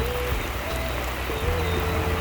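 Rain falls outdoors in a steady wash of patter, with faint background sounds mixed in.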